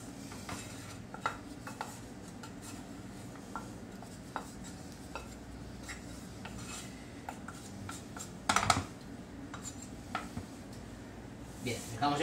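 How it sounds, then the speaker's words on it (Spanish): Fried potato and onion get mixed into beaten egg in a bowl for a Spanish tortilla, with scattered clinks and scrapes of utensil on bowl over a low background hum and one louder clatter near the end. "Ahora la vamos a mezclar con el huevo que hemos batido"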